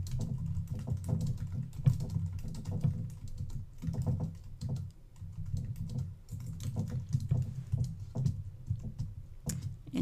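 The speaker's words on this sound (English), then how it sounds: "I can begin typing my journaling" Rapid, steady clatter of keys being typed on a computer keyboard, close by, with short pauses between bursts.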